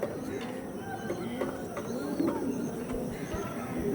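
Andhra Kalshira pigeons coo softly amid a busy, murmuring background, with low rolling calls repeating over steady ambient noise.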